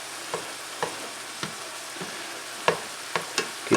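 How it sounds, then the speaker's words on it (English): Eggs seasoned with salt and pepper sizzle in a pan for shrimp fried rice while a utensil chops and stirs them, steady frying hiss broken by about eight sharp scraping taps at an uneven rhythm, with no talk. "We're going to dump those in there, make like scrambled eggs."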